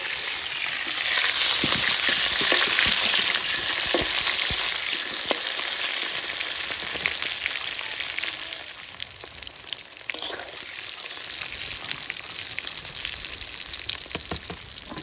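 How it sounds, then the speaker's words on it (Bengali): Pieces of eggplant fry in hot oil with a loud, dense sizzle and crackle that continues throughout, occasionally broken by clicks from stirring, with no talking. "বন্ধুরা এই তেলে আমি বেগুনগুলো ভেজে নেব"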